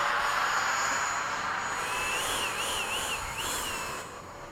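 An Eflite 80mm F/A-18D RC jet makes a low gear-down pass after sunset, its steady ducted-fan whine holding loud and close with a rising and falling whistle as it sweeps by, then fading slightly at the end.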